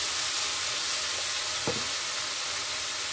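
Ground poppy seed, mustard and garlic paste with okra and onion sizzles steadily in a hot pan for Bengali prawn curry, a constant close frying hiss with a brief scrape of stirring midway.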